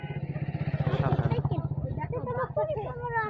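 A motorcycle engine putters close by on a road, its rhythmic low thrum running under a person talking throughout.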